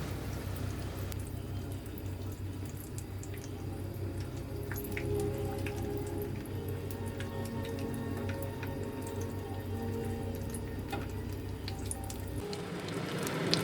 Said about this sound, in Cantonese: 咁我哋將佢呢炸到兩邊呢都金黃色熟晒啦